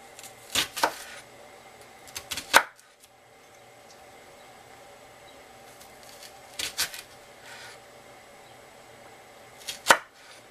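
A knife slices through spinach on a cutting board in a few separate bursts of quick, crisp chops, close by, with quiet pauses between them.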